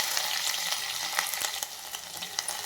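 Crushed garlic sizzles in hot oil with mustard seeds and cumin on low heat, a steady close hiss scattered with small crackles and pops, with no voices.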